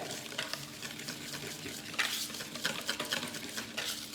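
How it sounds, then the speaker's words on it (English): A whisk beats cookie batter with butter, sugar, egg, vanilla and dark unsweetened Valrhona cocoa powder in a bowl, producing close, rapid rhythmic scraping and wet slapping strokes that continue steadily. "So I'm just gonna whisk everything."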